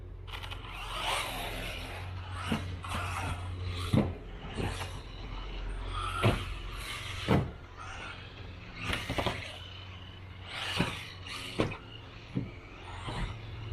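A WLtoys 184016 RC car runs laps on a track, giving a steady close motor whine with repeated sharp clicks and bumps spaced every second or two, and no talk over it.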